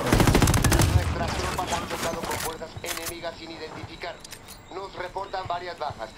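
Rapid bursts of automatic gunfire from Ghost Recon Wildlands ring out loud and dense for the first couple of seconds, then thin to scattered shots beneath players talking over the chaos.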